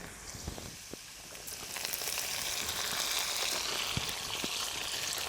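Green onions drop into hot oil already holding whole cumin and browned garlic cloves in a village kitchen pan, a fine crackling sizzle swelling louder after a couple of seconds, with a few sharp pops, no talk.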